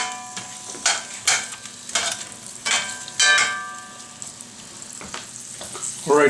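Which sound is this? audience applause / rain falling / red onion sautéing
red onion sautéing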